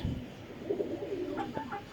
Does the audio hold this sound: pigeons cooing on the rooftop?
yes